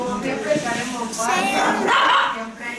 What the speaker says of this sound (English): Oh, another little dog.